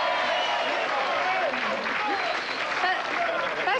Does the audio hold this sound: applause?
yes